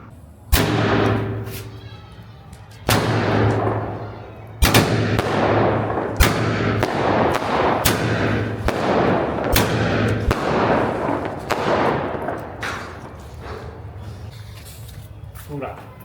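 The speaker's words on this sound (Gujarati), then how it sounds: "ફટાકડા વધ્યો હતો એ ફોડવા આવ્યા છીએ" Leftover birthday firecrackers bursting outdoors: a string of sharp, loud bangs and thuds, several close together in irregular bursts, each with a short crackling tail and a brief echo, with people talking in between.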